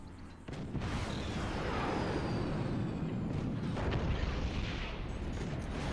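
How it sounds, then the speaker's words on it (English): Cannon fire in the artillery strategy game Forts, a sustained roar of booming shots and rumbling impacts that swells after a quieter start and stays dense and loud throughout. "I like the anti-howitzer defense, via cannon fire."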